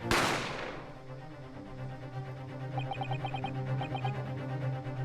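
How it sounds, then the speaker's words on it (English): A single sharp gunshot effect cracks at the start of an audio drama, loud and sudden, then decays into a low sustained musical drone with soft repeated chime-like notes and no speech. "You heard the gunshot, you mean?"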